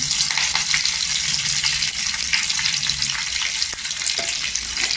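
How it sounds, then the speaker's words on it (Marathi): Cumin seeds and curry leaves spluttering in hot oil for a Marathi-style tempering, a loud, continuous crackling sizzle with sharp pops scattered throughout, close by and with no voices. "कढीपत्त्याची पानं पण तरतरली."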